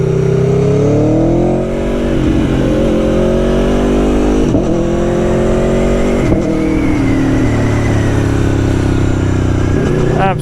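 Aprilia Tuono V4 1100 Factory motorcycle engine revving loudly and close, with the pitch sweeping up and down through several sharp blips over a steady idle, a faint voice briefly underneath.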